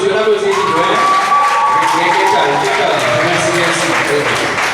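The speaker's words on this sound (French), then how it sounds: "On applaudit" Audience applause mixed with cheering and shouting at a quiz competition, a steady, dense wash of clapping that holds for the whole stretch, with voices and a sustained tone running through it.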